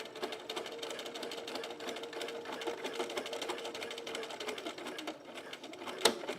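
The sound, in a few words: sewing machine stitching a bralette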